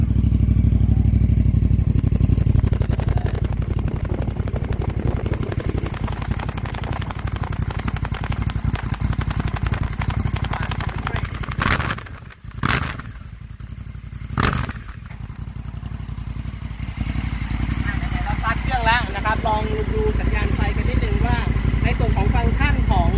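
Honda Africa Twin (L4) touring motorcycle with an Akrapovic carbon twin-outlet exhaust, its engine running steadily and loud nearby, briefly dipping twice around the middle before settling back to a constant rumble.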